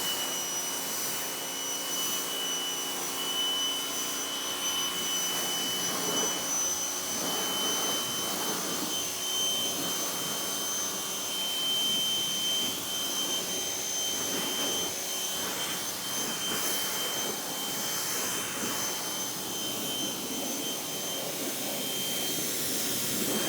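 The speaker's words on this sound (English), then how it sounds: "Now it's time to grab the pressure washer." A pressure washer fitted with a 25-degree nozzle rinses a ceramic-coated car in winter conditions, giving a steady, loud, continuous hiss and spray that runs unbroken for the whole stretch with no talk.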